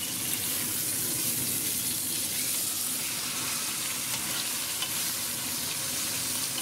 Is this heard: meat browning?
yes